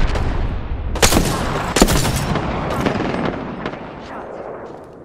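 Rapid gunfire bursts from Apex Legends, a few sharp loud volleys near the start then continuing fainter shots over a dense, noisy game background.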